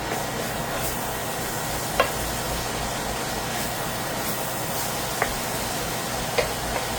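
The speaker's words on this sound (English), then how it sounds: "So we're going to add our sausage until they get really cooked through and through." Sausage frying in a pan, a steady moderate sizzle throughout with a few faint ticks and clicks of a utensil at intervals.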